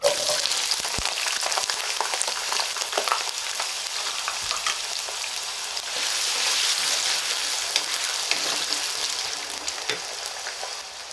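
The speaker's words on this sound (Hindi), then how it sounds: "अब इसमें हम आलू फ्राई कर लेंगे।" Half a kilo of potatoes fry in a pan with a dense, steady hiss and crackle that lasts throughout, broken by occasional light stirring knocks. There is no speech.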